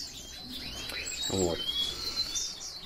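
Caged common yellowhammer buntings give thin, high chirps and a short buzzy trill, fairly close in an indoor aviary, with a brief spoken word.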